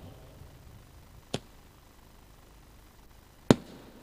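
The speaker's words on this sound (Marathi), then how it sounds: "फटाक्यांची रोषणाई अंतिम सामन्याला सलामी देताना आपण पाहत आहे." Two sharp, faint firework sky shots mark the opening of a cricket final, each a single crisp crack about two seconds apart over a quiet background.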